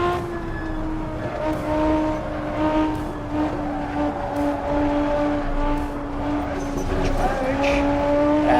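A light GT430 race car in a driving simulator revs on a track, its engine a sustained tonal whine that rises and falls with gear changes. A voice talks over it intermittently.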